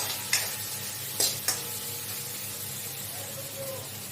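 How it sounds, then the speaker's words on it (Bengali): Spices with salt and turmeric sizzle steadily in hot oil while being stirred, with a few sharp spatula scrapes against the pan standing out above the continuous frying hiss; no speech. "এটাকে ভালোভাবে মশলাটা কষিয়ে নিতে হবে।"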